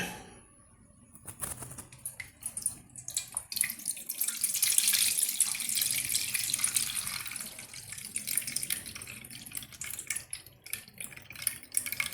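Clear water is poured off soaked cassava in a kitchen. A quiet start gives way to a gentle, splashing stream that swells in the middle and then trickles on at a modest level. No one speaks.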